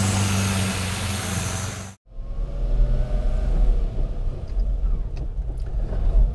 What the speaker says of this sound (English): That's just idling so much more smoothly now.